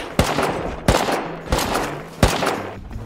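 Gunfire in a video game: four sharp, loud shots spaced roughly evenly over a few seconds, each followed by a short rumbling tail, with no voices.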